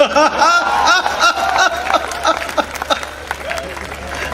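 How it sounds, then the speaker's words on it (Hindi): A crowd at a Hindi comedy poetry gathering claps and laughs together, a dense wash of applause mixed with chuckles that gradually thins out. "और अब आपकी तालियां उठेंगी"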